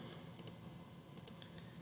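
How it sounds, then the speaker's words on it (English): Calculator keys tapped to enter tangent of 60: four soft, quick clicks in two close pairs, faint against a quiet room. "So I'm going to go over to my calculator and just type in tangent of 60."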